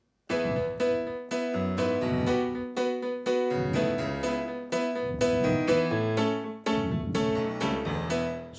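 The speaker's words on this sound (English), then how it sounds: "So it's this brighter sounding, cut-through piano sound, especially for fast song." Bright, cut-through piano sound played on a keyboard, with a fast run of chords and melody notes continuing for several seconds, loud and close with no talking.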